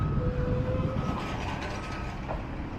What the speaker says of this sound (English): Yeah, trucks are scary, noisy, loud.